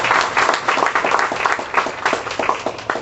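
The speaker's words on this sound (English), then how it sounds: "let's give this crowd a round of applause" A crowd at a USA Roller Sports announcement bursts into steady applause, dense overlapping claps filling the room at close range with no voices over them.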